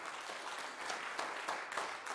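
Continuous crowd clapping at a community talent show, a thick wash of many hands with a few sharper individual claps standing out, moderately loud and uninterrupted by speech.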